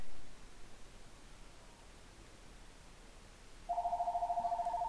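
A telephone starts ringing near the end, a warbling electronic ring that pulses rapidly over a hiss of background noise.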